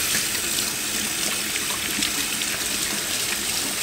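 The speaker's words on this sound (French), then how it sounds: "Par contre, là, pour rincer, utilisez de l'eau chaude." A tap runs steadily into a kitchen sink, close and continuous, rinsing after liquid has been squeezed out during cooking, with no voices.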